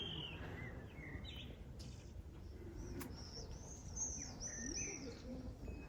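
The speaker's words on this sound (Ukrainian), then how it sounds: "І пташечки співають, якщо вам чутно." Birds chirp and coo nearby in short repeated calls, with a steady outdoor background hum beneath them.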